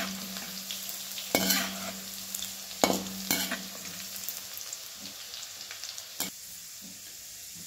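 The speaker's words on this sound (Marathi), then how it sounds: "आता हे लसूण चेचून घेतलेलं टाकूया बघा तेलात लसूण लगेच भाजतोय बघा" Crushed garlic fries in hot oil in a pan while chivda is being made. A steady, close sizzle runs throughout, broken by a few sharp clacks of a spoon stirring.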